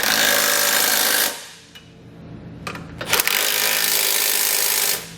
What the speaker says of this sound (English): grab a 13mm socket along with that long extension and go back and snug up all the bolts